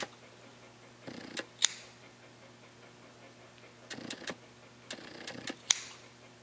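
Scissors snipping through a cow eye during a dissection: short crisp clicks and snips in two clusters separated by a pause, close up and quiet over a faint steady hum.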